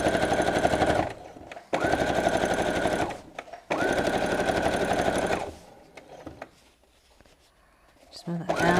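A sewing machine runs in three long bursts, stitching a fabric BBQ utensil roll with big tacking stitches, each burst a steady rapid whir with short pauses between, then quiet handling noises near the end.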